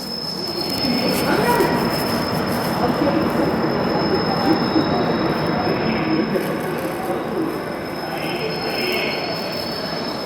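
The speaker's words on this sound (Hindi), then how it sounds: "बडनेरा जंक्शन के प्लेटफॉर्म नंबर 3 पे आ चुकी है काचीगुड़ा नारखेड़ इंटरसिटी एक्सप्रेस" The Kacheguda–Narkhed Intercity Express pulls into platform 3 at Badnera Junction with a steady, heavy rumble of rolling wagons, a constant high wheel squeal running throughout and faint station noise around it.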